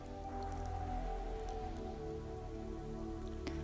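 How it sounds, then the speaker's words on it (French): Soft trickling water resembling rain pattering on a surface, a steady faint wash with scattered light drips throughout. "L'eau qui ruisselle,"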